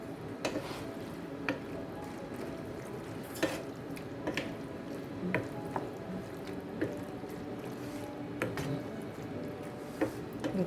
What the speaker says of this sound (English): some parsley, and we're going to stir.